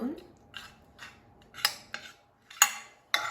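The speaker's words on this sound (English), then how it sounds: "You can spread it with a spoon." A spoon spreads pasta sauce across the bottom of a 9 by 13 inch casserole dish for a frozen ravioli bake: quiet, scattered scrapes and light taps against the dish, with short silences between strokes.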